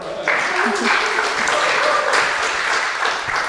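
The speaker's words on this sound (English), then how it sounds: "Round of applause." A crowd applauding steadily for a few seconds, a dense wash of clapping that stays fairly loud throughout.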